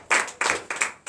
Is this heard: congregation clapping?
yes